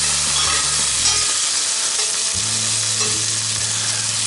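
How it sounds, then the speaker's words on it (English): A utensil drags and scrapes across a Blacklock cast iron skillet over loud, constant frying sizzle, close and continuous with no voices. "it's dragging on the cast iron and the seasoning."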